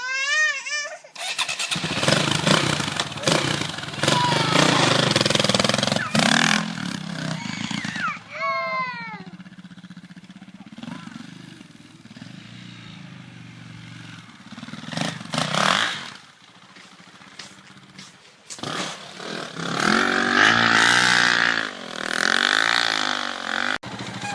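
Grandpa's motorcycle engine runs close by, a rough, loud clattering idle that surges with revs, then settles and revs again, while a child's and an adult's voices come through faintly at moments.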